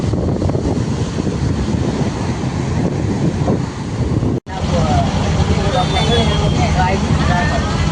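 Cool sea wind buffets the microphone while waves wash against the shore on the coast at Somnath, a continuous loud roaring rush with one brief dropout midway.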